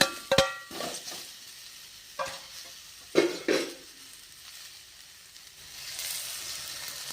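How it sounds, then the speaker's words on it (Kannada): Ridge gourd fries in oil with a soft, steady sizzle, broken by a few sharp scrapes and clacks of a spoon stirring in the pan, close and fairly quiet. "ಹೀರೆಕಾಯಿ ಫ್ರೈ ಮಾಡ್ಕೊಂಡು ಹೀರೆಕಾಯಿ ಹಾಕೋಣ"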